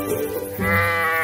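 Sheep in a flock bleat nearby, a soft murmur giving way to one loud, wavering bleat that carries to the end.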